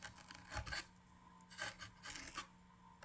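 A chainsaw file rasps against a cardboard tube in a few short bursts, close and fairly loud, with quiet pauses between the strokes and no voices.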